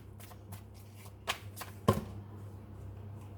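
Tarot cards being shuffled and drawn by hand, a series of crisp riffling flicks and soft slaps close up, with a couple of louder snaps in the middle over a low steady hum, and no voice.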